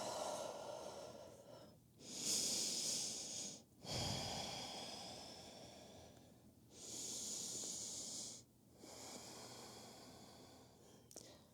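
Slow, deep breaths during a yoga forward fold over the front leg, soft and close, with long hissing inhales and exhales alternating at an unhurried pace and quiet gaps between them.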